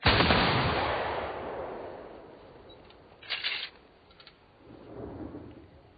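A volley of rifles fires on command in a battle scene. One loud blast booms and fades over about two seconds, then a short crackling burst and a fainter rolling rumble follow.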